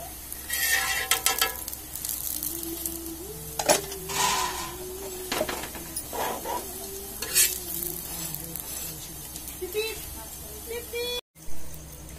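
A paratha made from drumstick (moringa) leaves and wheat flour fries in a pan, giving a steady close sizzle with stirring and scraping sounds while someone talks over it.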